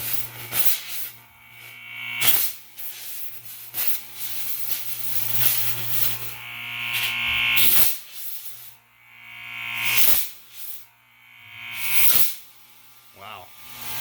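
A 41-year-old Tecumseh AB series A/C compressor runs in loud bursts of hissing, rushing air with a steady motor hum beneath, starting and stopping several times, while people talk over it.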